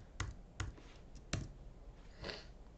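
A few sharp key clicks on a computer keyboard as a number is typed, spaced irregularly and faint against a quiet room background.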